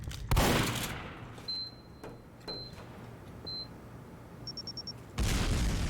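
Two sharp bursts from an EMP grenade in Team Fortress 2, one near the start and a heavier one at the end, with faint electronic beeps in the quiet gap between.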